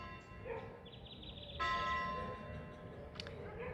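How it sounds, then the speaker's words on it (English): A bell rings out with sustained tonal strikes at moderate distance, one clear peal swelling midway and another brief strike near the end, with faint dog barks in the background and no talking. "and here's the bell"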